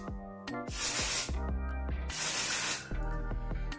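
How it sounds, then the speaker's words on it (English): Ion Volume Reboost hair spray misted at the roots of curly hair: two sharp aerosol hisses, each about a second long, heard close up between softer handling noises. "So I'm just gonna spray a little bit of that at the root."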